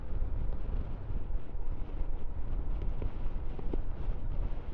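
Gusty wind buffets the microphone while riding a 2023 Himalayan 411 motorcycle on an open road, a steady loud low roar with rough fluttering pulses throughout.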